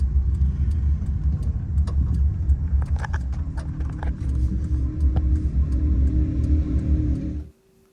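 A car drives along with a steady engine rumble and road noise, rising slightly in places, before the sound cuts off abruptly near the end.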